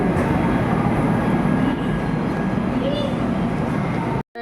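Continuous low rumble and clatter of a passenger train in motion from Shalimar to Puri, heard from a seat inside, steady and fairly loud, with faint voices in the background.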